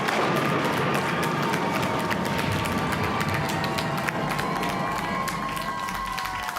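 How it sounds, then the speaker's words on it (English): A quiz bowl audience cheering and clapping, a dense, steady roar of crowd noise with applause and shouts that holds at full volume for several seconds. "Now that was good cheering."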